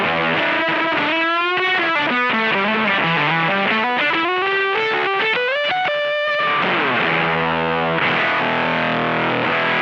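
Heavily fuzzed electric guitar through a Death By Audio Octave Clang V2 octave fuzz pedal, buzzy synth-like octave tone, playing a sliding riff and then sustained chords, loud and saturated.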